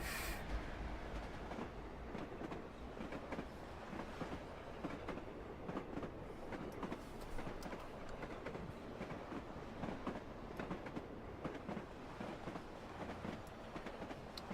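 Freight train in the Train Simulator 2018 game on the Midland Main Line toward St. Pancras rolls past with continuous rhythmic clickety-clack of wheels over rail joints, steady and fairly quiet throughout.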